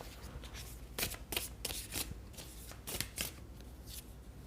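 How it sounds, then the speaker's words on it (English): Tarot cards being shuffled close up, with repeated quick riffling bursts and soft flutters in an uneven rhythm, fairly quiet and with no voices. "let me shuffle the cards and then I will do your reading"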